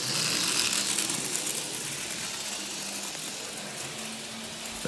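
A Lionel 8601 model train locomotive motor runs with a faint, steady mechanical whir and light gear chatter for several seconds, close by and alone.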